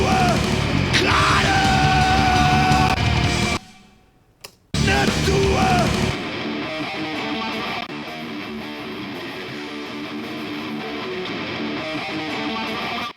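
Chorus of a live metal band in a beginner mix, loud and dense with distorted guitars, drums and shouted vocals, cutting out abruptly for about a second before returning and then settling into a slightly quieter, steady section.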